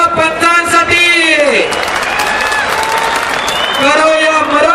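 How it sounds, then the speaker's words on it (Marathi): Spectators at a Maharashtra kushti dangal wrestling bout in 2024 burst into loud applause for the referees, building to a dense clapping roar in the middle while a commentator's voice runs before and after it. "टाळ्या वाजवा जरा पंचांसाठी."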